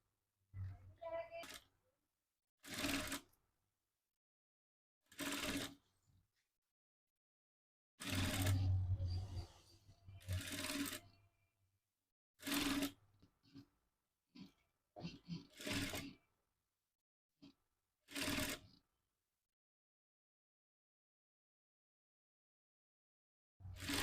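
A sewing machine top-stitches a folded blouse edge in short separate bursts, each a few seconds long, with quiet pauses between them.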